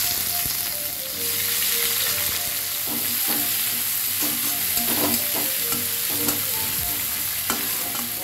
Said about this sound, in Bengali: মাংসটা করে তারপরে একটু পেঁয়াজ ভেজে নিলাম।